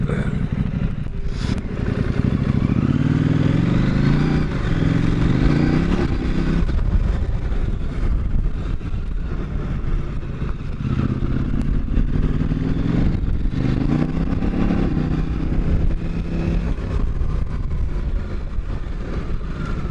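A KTM 790 motorcycle on the move at the start of a ride, its engine droning steadily and close throughout with rising and falling pitch as it revs and shifts, plus wind rush and clatter.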